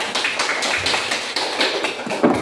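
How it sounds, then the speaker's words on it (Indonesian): A classroom group of students claps hands together, a dense patter of many overlapping claps kept up steadily, fairly close and loud, with no talking over it. "Coba dulu kasih tepuk tangan dulu supaya semangat"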